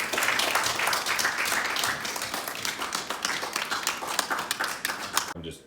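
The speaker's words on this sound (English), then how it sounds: "I just want to give them a round of applause too" A room full of people gives a round of applause at a county and state senior health event, brisk clapping that slowly thins out and then stops abruptly at the end.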